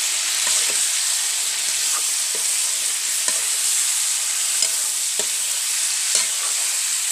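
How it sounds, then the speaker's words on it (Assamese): Jackfruit being stirred in a small wok for an Assamese dish: steady frying sizzle with a spatula scraping and clacking against the pan about once a second, close and continuous, with no talking. "এতিয়া মই মুচিখিনি দি দিলোঁ বইল কৰি থোৱা ধুনীয়াকৈ লৰাই দিছোঁ"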